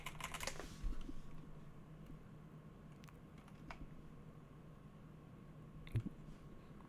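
Quiet typing on a computer keyboard: soft, sparse key clicks in a low, steady room tone, with a slightly louder burst of keystrokes at the start and a single tap near the end.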